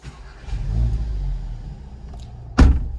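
A Seat Leon Cupra 300 hp engine rumbles low, then fires up with a sudden loud burst and a short rev on keyless start. Close by and fairly loud.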